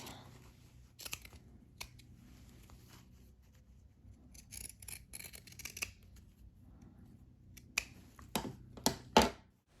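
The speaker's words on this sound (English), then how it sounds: "I'm going to use my pinking shears again to trim the curves." Pinking shears trim curved seersucker fabric with a string of crisp, close snips and scraping cuts, quiet overall, with the blades clicking in irregular bursts and sharper snips near the end.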